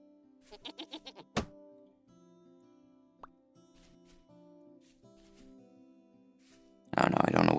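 Goat in the survival game Vintage Story gives a short run of about five bleats in quick succession, followed by a sharp thud, a few soft scattered sounds, and a loud noisy burst at the end.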